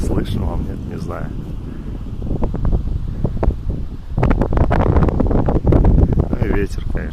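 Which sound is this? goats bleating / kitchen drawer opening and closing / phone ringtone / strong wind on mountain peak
strong wind on mountain peak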